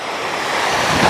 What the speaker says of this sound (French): Les cascades, on va voir le lac.